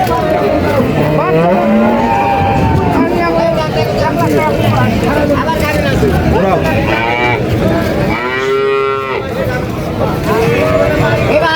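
At the Sonaichandi cattle market, a Holstein Friesian dairy cow gives one loud, drawn-out moo near the end, set against constant crowd chatter and other livestock sounds.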